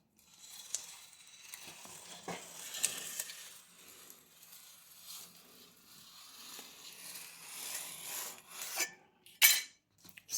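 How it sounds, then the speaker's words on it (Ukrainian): A plastering spatula scrapes and smooths across reinforcing mesh along the perimeter of a window reveal being insulated, giving soft, uneven rubbing and rasping strokes at close range, with a few sharper scrapes near the end and no talk. "І потім беремо звичайний шпательок і проходимося по всьому периметру."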